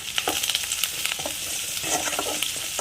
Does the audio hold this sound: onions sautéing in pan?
yes